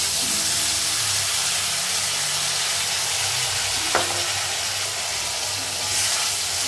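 Mustard paste with chili, turmeric and cumin powders sizzles steadily in a hot pan for a pomfret curry, a close, continuous hiss of frying with one brief clink partway through.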